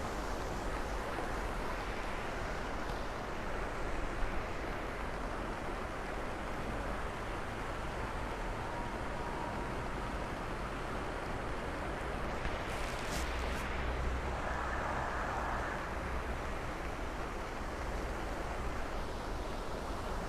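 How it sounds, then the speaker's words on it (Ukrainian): Flooded Lybid river in Kyiv, its water rushing after topping the banks, a steady loud broadband roar that runs unbroken and close throughout, with no talk over it. "Десь, мабуть, метра на півтора річка вийшла з берегів."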